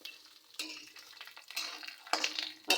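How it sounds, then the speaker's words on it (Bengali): Peanuts frying in a pan with a little oil give a crackling sizzle with scraping and stirring, in uneven bursts that swell near the end, close and fairly quiet, with no talk. "চড়বড় করছে, একটা আওয়াজ হচ্ছে চড়বড় চড়বড় করে।"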